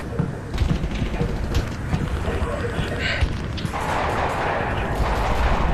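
Rapid, dense gunfire and booming impacts from Half-Life: Alyx, continuous and loud across the whole stretch, with a player's voice heard briefly in the middle.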